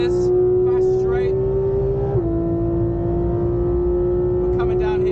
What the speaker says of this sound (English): we're coming down here at 240 kilometers an hour into the braking zone